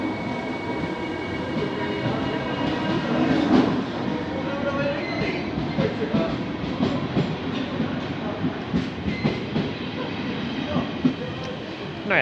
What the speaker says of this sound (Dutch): dat is de intercity naar Groningen